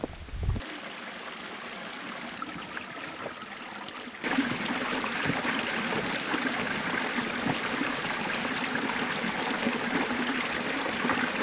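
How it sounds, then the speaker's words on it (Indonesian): Water seeping up from the ground into a riverbed, a steady trickling flow that suddenly grows louder and fuller after a few seconds and then runs on continuously, with no voices. "Nah, di sini air-air ini dia keluar dari dalam tanah."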